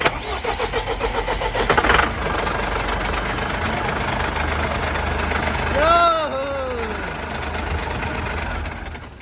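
A Sino truck diesel engine cranks and catches after its fuel system is bled, then settles into a loud, rough idle up close, with a person briefly talking over it.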